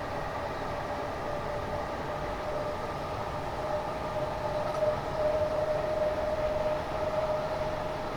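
A Class 455 electric train on the South West Main Line between Woking and Waterloo in Train Simulator Classic runs at a steady pace, with a continuous rumbling rail noise and a thin whine rising midway.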